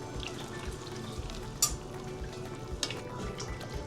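Homemade tomato coulis is stirred into a simmering beef bourguignon in a pot, with a soft bubbling simmer, gentle scraping, and a couple of faint utensil clinks, all fairly quiet.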